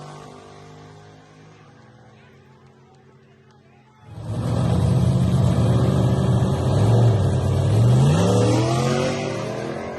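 A race car engine runs loud and close, a quieter rumble giving way at about four seconds to a sustained roaring rev that holds steady before easing slightly at the end.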